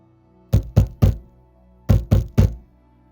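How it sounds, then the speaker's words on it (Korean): Knocking on a door, heard alone in two quick sets of three sharp, loud raps separated by a pause. "누군가 문을 두드리고 있었지."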